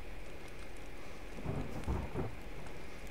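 Rain and thunder in the survival game The Forest, a steady hiss of rainfall with a low thunder rumble swelling in the middle, loud and continuous without talk.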